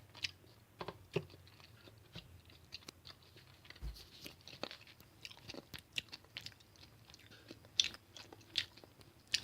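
Juicy Drop jelly candy being eaten close to the mic, with soft repeated bites and crunchy, wet chewing sounds at an irregular pace against a very quiet background, no talking.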